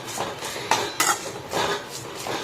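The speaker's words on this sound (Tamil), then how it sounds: "இது கொஞ்சம் வெங்காயம் தக்காளியும் நல்லா வதங்கட்டும்" A spoon stirs onions and tomatoes being sautéed in a pan for a paneer gravy, giving a few soft scrapes and sharp metallic clinks against the pan at close range, with no talking.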